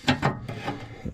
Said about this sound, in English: I got this wrench on here